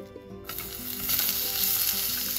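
Onion stir-frying in a lightly oiled pan, a steady close sizzle that swells after a brief quieter start, with faint scraping of the stirring and no voices.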